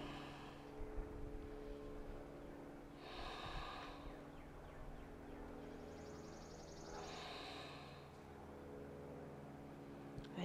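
Slow, deep breathing during a vinyasa yoga stretch: a few audible inhales and exhales, soft and close, over a faint steady background hum with no talking.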